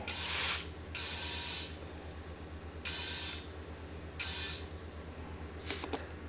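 A spray bottle spritzes in four sharp hissing bursts, with a fifth fainter one at the end, while a new tire is fitted on a Toro Time Cutter SS5000 zero-turn mower.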